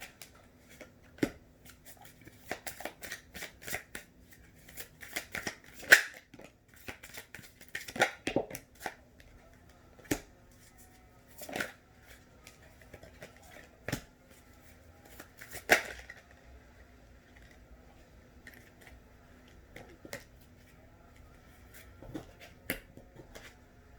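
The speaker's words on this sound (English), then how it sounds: "that was a long shuffle" Tarot cards are shuffled softly and repeatedly, with faint riffles and light taps scattered irregularly over a quiet room.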